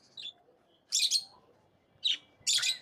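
Two cockatiels, a red-eyed albino and another, give several short, bright chirps in separate bursts against a quiet background, one very brief and the others fuller.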